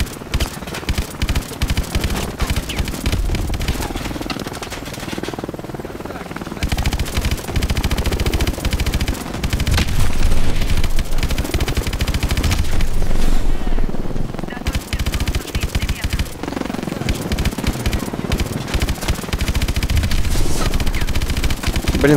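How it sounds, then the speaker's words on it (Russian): A robot fires a machine gun in the Call of Duty video game, with loud rapid bursts of automatic gunfire broken by short pauses amid other battle noise. "какой-то робот с пулеметиком долбит просто все вокруг"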